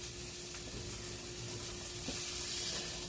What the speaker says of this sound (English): you sear your pork chops, lock in the juice a little bit